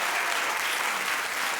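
Studio audience applause on a daytime talk show, a dense, steady wash of clapping that fills the whole stretch at even loudness, with no voices rising above it.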